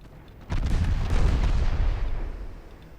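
A single heavy naval artillery blast booms out in an 1890s-era naval warfare game as a merchant convoy is shelled, a loud deep explosion rolling and fading over a couple of seconds.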